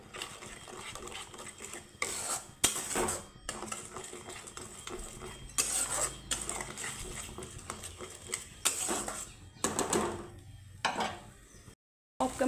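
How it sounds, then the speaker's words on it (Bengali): Spice paste being stirred and fried in a pan, with repeated metallic spoon scrapes and clinks against the pan at an irregular rhythm, close and moderately loud, under a soft sizzle. There are short pauses and no clear talk. "এখন আমি মশলাটাকে সুন্দর করে কষিয়ে নেব।"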